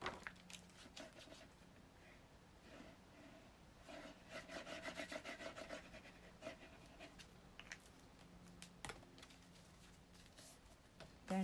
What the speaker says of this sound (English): Just burnish that down.